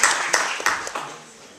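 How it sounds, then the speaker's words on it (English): A small audience gives a few scattered claps at a speech, several distinct hand claps that quickly thin out and fade. "So we have to clap for him."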